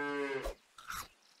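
A cow from the Super Auto Pets video game gives one short, clear harmonic moo, followed by a brief rustling game sound, with no talk.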